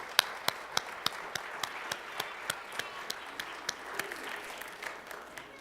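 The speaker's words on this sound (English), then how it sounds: "So special round of applause for Lindsay and Solid Foundations." An audience at a youth Easter program gives a round of applause for Lindsay and Solid Foundations, heard as faint, steady, evenly spaced claps that continue throughout.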